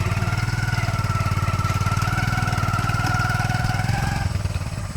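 A motorbike engine runs steadily near a forest edge, a close, even, rapidly pulsing idle that holds for several seconds before easing slightly at the end.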